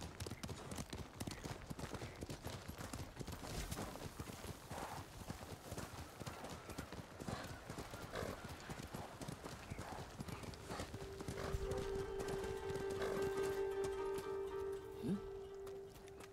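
Horse hooves galloping in a steady clip-clop rhythm through the Ghost of Tsushima video game, loud and continuous, with a sustained tonal in-game sound and a brief whinny entering near the end.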